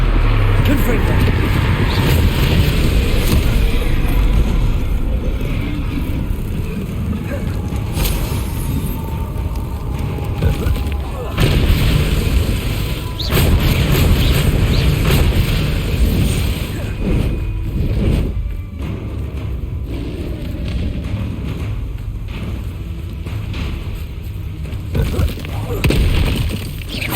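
Confringo blasting-spell explosions in the video game Hogwarts Legacy go off in a loud, dense barrage of booms and bursts that continues almost unbroken, with a voice shouting over the combat noise.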